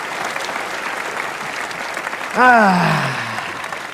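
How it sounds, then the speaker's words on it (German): A studio audience of 2,546 applauds at a German Sunday TV music show, a dense and steady wash of clapping throughout. Near the end a single voice lets out a brief exclamation over it. "2546 begeisterte Zuschauer, die jetzt für dich noch einmal applaudieren"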